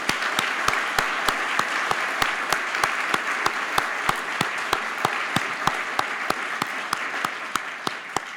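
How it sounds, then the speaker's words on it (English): Warm audience applause at a university lecture, a steady dense wash of clapping from a seated crowd, loud and continuous with no voices over it. "so we can thank them with our warm applause"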